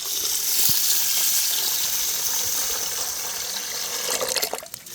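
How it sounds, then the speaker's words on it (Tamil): Basmati rice being washed by hand in water for a chicken biryani: continuous close splashing and running water that swells and then breaks into a few louder sloshes and clatters at the end, with no voices. "இந்த அரிசியை கழுவும் போது மட்டும்னே பார்த்து பொறுமையாக பண்ணுவோம்"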